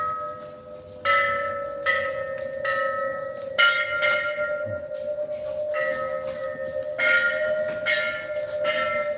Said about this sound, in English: Ringing the bells.